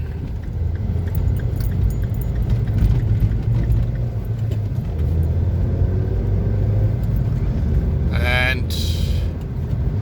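A 2013 MINI John Cooper Works R55 drives along under 3,000 rpm, its engine giving a steady low drone and road rumble, with someone talking over it and a brief chime near the end.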